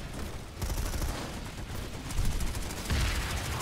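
Dense, continuous rattling gunfire with heavier bursts and booms layered in, a constant chaotic battle din from the video game Planetside 2, with no talking.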